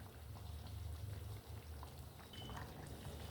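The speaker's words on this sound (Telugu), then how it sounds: "చూడండి ఎలా ఉడుకుతుందో" A tamarind stew of spinach and amaranth with jaggery bubbles in a pot, a quiet, steady simmer of small pops and gurgles that dips briefly midway and then resumes.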